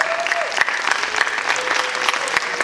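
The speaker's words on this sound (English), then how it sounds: "Let's give you a big round of applause." A stage audience at a science-communication competition final in Germany applauds a volunteer, a dense and continuous wash of many hands clapping, loud and close, with a faint voice or tone threading through the noise.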